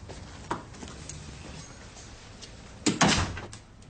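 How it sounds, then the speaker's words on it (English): An office door swings shut in a police station, landing as one firm thud close by a little before the three-second mark, with a second knock just after it against quiet room tone and no talking. "deal with it, and close the door."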